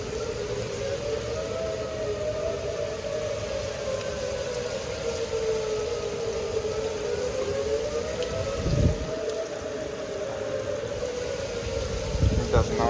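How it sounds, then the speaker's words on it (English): Tornado sirens wailing during a heavy storm in Plano, Texas, a steady rising-and-falling tone over constant rain and wind, with a couple of brief thumps and knocks near the end. "It does not like the tornado sirens at all."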